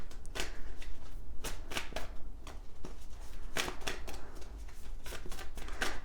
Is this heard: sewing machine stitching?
no